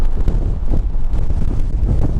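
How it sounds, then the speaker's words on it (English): Strong wind on Moel Siabod mountain buffets the microphone in loud, continuous rumbling gusts, close and unbroken, with no voices heard. "This wind, it's testing, definitely testing."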